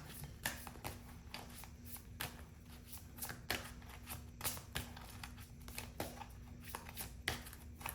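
Playing cards are shuffled close up in a quiet room, a run of quick soft riffling and flicking bursts repeating steadily.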